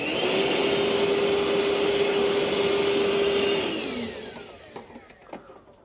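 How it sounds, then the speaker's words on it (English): A shop vac runs loud and steady with a constant whine for about four seconds, then powers down and spins out, leaving a few faint knocks and clatters. "I got myself a shop vac."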